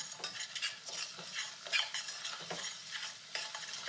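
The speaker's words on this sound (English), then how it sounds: "We'll stir that around." A spoon stirs spicy squash soup base in a pot over low heat, giving soft irregular scraping and shuffling sounds over a faint sizzle. The sounds are close, and no one speaks.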